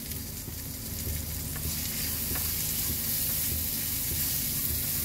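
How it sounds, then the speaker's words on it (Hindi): Onions sauté in hot oil in a pan, a steady close sizzle with faint stirring scrapes throughout. "तो ऑयल को थोड़ा सा गर्म होने देंगे और इसमें हम डाल देंगे हमारे थोड़े से प्याज और इन्हें थोड़ा सा हम सौते कर लेंगे।"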